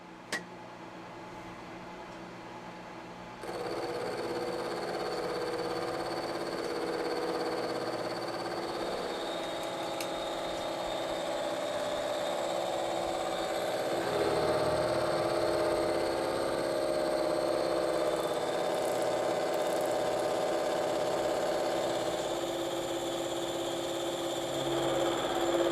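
A milling machine cutting a slit into metal spacer blocks with a 75-thousandths cutter, a steady loud mechanical whine and grinding hum that starts abruptly after a quiet moment and continues unbroken, swelling slightly midway.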